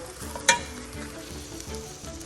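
Packaged shrimp fried rice with added oil fries in a pan, giving a steady close sizzle with one sharp crackle near the start and no talk.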